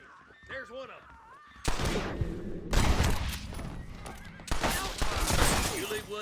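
Gunfire in the video game Red Dead Redemption, bursts of rapid shots and crackling volleys among whinnying horses, loud and dense, with shouting voices mixed throughout.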